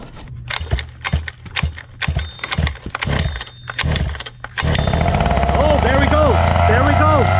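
Nitro engine of a Redcat Rampage RC truck sputters through several short cranking bursts, then catches and runs steadily at a loud, buzzing idle with rising and falling revs, close by.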